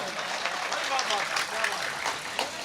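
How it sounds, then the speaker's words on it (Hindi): A mushaira poetry gathering gives a round of applause, a dense continuous patter of many hands at moderate level lasting a few seconds, with speech mixed in underneath. "तालियों से एक मरतबा इस्तेमाल कर दीजिएगा।"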